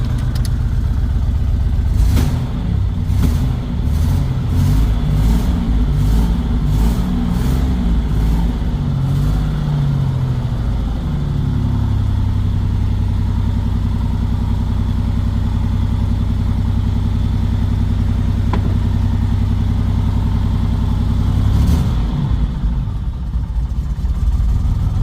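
A 1984 Buick Grand National fitted with a 3-inch Pypes catback exhaust idles with a deep, close, steady rumble, then settles into a lower, smoother drone, with a brief throttle blip near the end.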